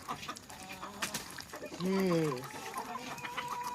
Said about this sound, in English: we got chickens fighting over here